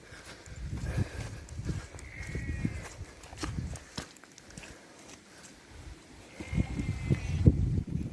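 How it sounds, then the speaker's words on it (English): Two hoarse, raspy sheep bleats from a short distance on Dartmoor, separated by quieter stretches with some rustling and low background noise. "Sounds like one of those sheep that smokes."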